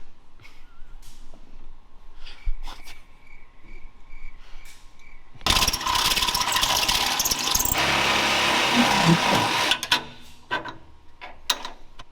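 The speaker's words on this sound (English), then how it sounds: "So now, I need a drill and a stepper bit." A power drill with a stepper bit bores through metal near a vehicle firewall, a loud sustained whirring grind. It starts after a short quiet stretch, runs for about four seconds and then stops abruptly. No one talks.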